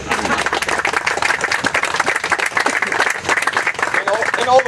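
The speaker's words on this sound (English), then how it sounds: "Let's give Ed a round of applause." A crowd at a groundbreaking ceremony gives a round of applause, dense clapping throughout with some voices mixed in beneath.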